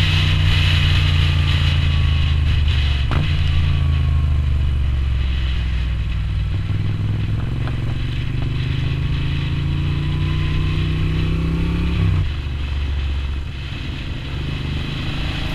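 A Moto Guzzi V9 Roamer motorcycle with an Agostini exhaust and 55 horsepower is ridden on the road. Its loud, close engine drone climbs steadily in pitch under acceleration, then drops abruptly near the end, with no talking.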